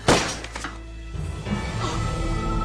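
A toy gun fires once with a sharp, hollow thunk right at the start, then a low room hum carries on with no further shots.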